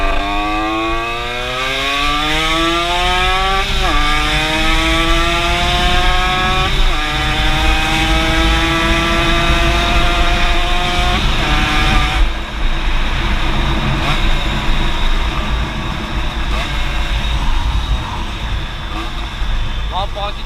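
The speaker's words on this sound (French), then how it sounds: "je vais aller quelque part pour faire une petite ligne droite. Et puis vous allez voir la puissance de la moto." An XP6 Evo 2 50cc motorcycle with a stock-type RSAL 50 kit revs up hard on a short straight, its two-stroke whine climbing through several gear changes before settling into a steady drone, loud and close.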